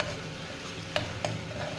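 Spice paste frying in hot mustard oil in a kadai, a continuous soft sizzle with two sharp metallic clinks of a spoon against the pan, close and alone.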